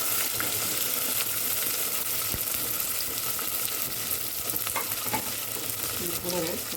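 Chopped onions and broken green chilies fry with spices in oil for chicken biryani, a dense continuous sizzle close up with occasional stirring clinks.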